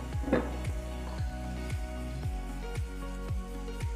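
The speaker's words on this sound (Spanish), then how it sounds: "la damos vuelta y la vamos a volver al sartén para que se cocine" A tortilla with jack mackerel cooks in a frying pan, giving a soft steady sizzle with faint squishy crackles under a regular low thumping pulse, close and moderately quiet.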